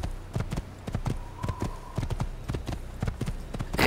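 A horse's hooves clip-clop steadily at a trot in the Assassin's Creed game, the clear, even beats continuing throughout with no talking.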